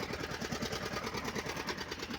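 A small mini tractor runs through a cotton field, its engine chugging in a steady, fast, even rhythm, continuous and fairly faint with no voices over it.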